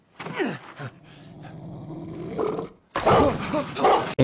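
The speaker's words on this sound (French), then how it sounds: "Il était flippant ce chien, c'est quoi? C'est un Rottweiler, ça, non?" A Rottweiler in a TV show barks and growls close and loud, with a rough snarl between the bursts of barking.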